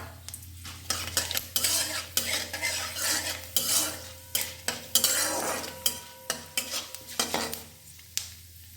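Bay leaf and dried red chilli tempering sizzle in hot oil for a pumpkin and capsicum curry, with steady frying hiss under repeated scraping stirs and clinks of a metal spoon against the pan, close and clear with no talking.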